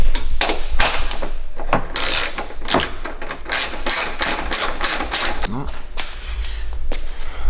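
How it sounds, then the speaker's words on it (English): A ratchet with a 10mm socket on an extension loosens the headlight bolts on a 2007-2013 GMC Sierra, giving close, rapid bursts of clicking pawl ticks that repeat through the clip. "now we're going to take this extension with a 10mm"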